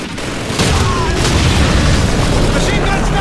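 Dense, loud machine gun fire and booming explosions from the Call of Duty 2 video game, a continuous rattling barrage with a shouted voice over it.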